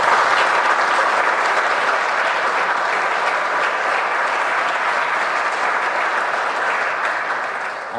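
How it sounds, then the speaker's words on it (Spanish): A large crowd at a church gathering breaks into dense, even applause that holds strong throughout and fades slightly at the end. "vamos a dar un gran aplauso"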